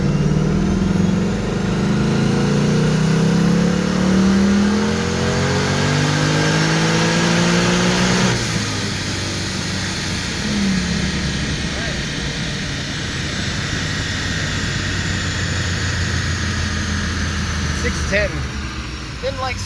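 A 2019 Mustang with longtube headers and a Vortech supercharger roars loud and close on a dyno, its engine note climbing steadily in pitch through a long pull before abruptly backing off to a lower, rougher drone.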